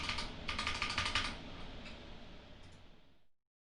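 A credit card number being typed on a computer keyboard, a quick run of close, crisp key clicks that thins out to sparse taps before stopping.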